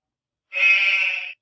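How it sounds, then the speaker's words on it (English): A short, clear sheep bleat plays alone as a positive-feedback sound effect in the Lexia Core 5 reading app, lasting under a second against silence. "they get a little positive feedback with the ding and the sheep"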